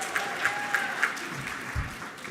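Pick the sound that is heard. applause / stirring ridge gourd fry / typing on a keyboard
applause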